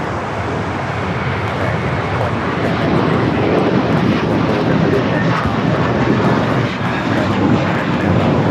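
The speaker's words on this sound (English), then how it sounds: "taking off to JFK on the A321" An Airbus A321 airliner takes off from LAX bound for JFK. Its loud, close jet engines give a sustained broadband roar that holds steady throughout.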